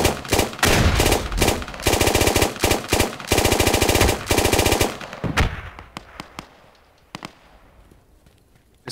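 Heavy automatic gunfire in the military shooter game Squad, loud rapid bursts packed close together, then thinning into scattered single distant shots as the firing dies away.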